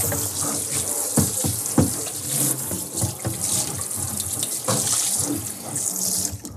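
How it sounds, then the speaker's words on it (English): Tap water runs steadily into a sink while home-brewing equipment for an Irish red ale is rinsed, a loud continuous splashing hiss broken by irregular clunks and sloshes as items are moved under the stream. "And now we're going to rinse everything. Make sure you well rinse everything."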